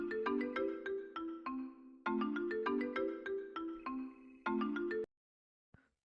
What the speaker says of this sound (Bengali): হঠাৎ মোবাইলে আননোন নাম্বারে একটি ফোন কল।